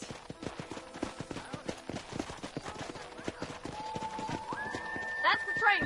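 In Red Dead Redemption, horses in a corral clop along in an even rhythm, joined near the end by a rising whistle and a brief high whinny.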